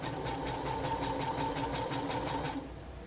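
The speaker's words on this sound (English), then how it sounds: "First set of stitches is basting, so I changed my stitch length to 5. Gonna make long stitches." Sewing machine running steadily at a set stitch length of 5, sewing long basting stitches, a close, even mechanical whir with a regular rapid ticking pulse that slows and softens near the end.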